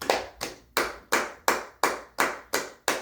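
A church congregation claps together in steady unison, about eight sharp, even claps in three seconds, close and lively with no voices over them.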